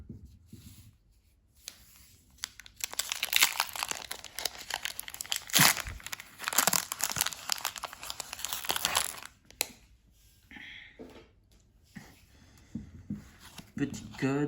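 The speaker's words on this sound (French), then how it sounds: "on va s'ouvrir ces 4 boosters" Four Pokémon TCG booster packs from a Snorlax Pokémon GO box are torn open, with crackling foil wrappers, crinkling and shuffling as the packs are handled. The sounds come close and in loud bursts, with pauses between them.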